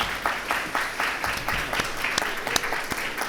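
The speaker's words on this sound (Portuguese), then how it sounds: "por favor, os aplausos ao professor Robson" An audience at an international law and religion conference applauds a professor, a moderate round of clapping with distinct individual claps audible in a roomy hall, a voice briefly heard underneath.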